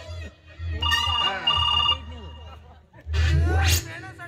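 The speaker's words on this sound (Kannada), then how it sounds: "ಮತ್ತೆ ಫೋನ್ ಬಂತು" A telephone rings with a few bright electronic tones amid lively chatter and background voices in a comic scene, the ringing sounding twice in short bursts over talk.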